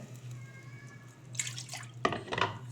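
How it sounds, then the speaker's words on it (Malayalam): Water pours and splashes briefly into a pot, two short bursts of liquid after a steady low hum, close by. "ഇനി ഇതിലേക്ക് ലേശം വെള്ളം കൂടി ആഡ് ചെയ്യുന്നുണ്ട്"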